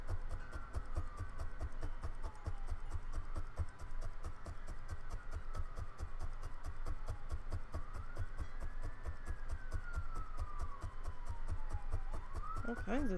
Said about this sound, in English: Oh, got a few more sirens coming.